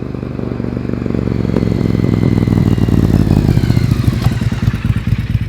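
Motorcycle engine droning steadily on the road, a rider wearing a Shoei EX-Zero helmet, with a rumbling mid-pitched exhaust and clattering mechanical texture that swells slightly as the bike accelerates, continuous and close throughout.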